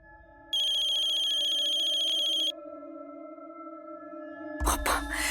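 A telephone rings with a steady electronic trill for about two seconds over a low background hum, followed by a short rustling clatter.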